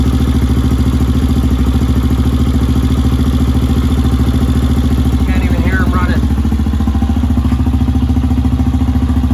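A Honda XR200 motorcycle engine idles steadily and loudly nearby with an even, rapid thrum and light mechanical clatter, while a voice speaks briefly partway through.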